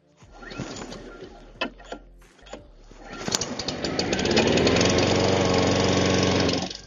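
A Blackstone SP530 Deluxe self-propelled lawn mower engine sputters and catches after some clattering, then settles into a loud, steady running drone nearby.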